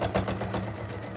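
A sewing machine stitches a quilt-as-you-go block with a fast, even mechanical chatter of rapid needle strokes, close and steady throughout, with no voices.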